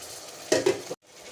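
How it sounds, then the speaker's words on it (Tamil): Chopped tomatoes tipped into a hot pan of spiced masala for chicken biryani, a brief bright sizzle with a spoon scraping and stirring against the metal, close up, ending abruptly. "இப்போ இந்த தக்காளியை போட்டுக்கலாம்"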